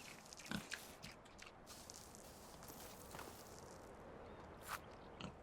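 Pigs in the medieval farming game Medieval Dynasty give faint, scattered grunts in a quiet pen, with soft footsteps and shuffling over a low steady ambience.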